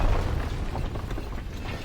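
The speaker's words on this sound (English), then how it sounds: "Was that an explosion?" A low, rumbling boom from an explosion in the video game Ni No Kuni 2, a steady dull roar that stays loud and fairly close for the whole stretch, with no voices over it.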